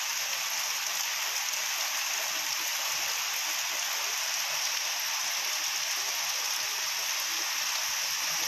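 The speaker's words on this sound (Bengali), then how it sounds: "সকাল থেকে শুরু হয়েছে প্রচণ্ড পরিমাণে বৃষ্টি" Heavy morning rain in Berhampore pours steadily, a dense, even hiss of rainfall at close range, unbroken and with no voices.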